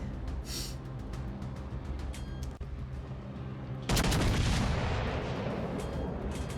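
Battleship main guns fire in World of Warships, a loud heavy broadside booming in near the four-second mark and rolling on over a background of ongoing distant naval gunfire and engine rumble.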